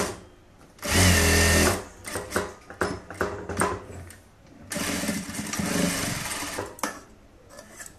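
A sewing machine stitches a blouse seam in two loud motor bursts, one short and one longer, with quieter handling and fabric rustle between them.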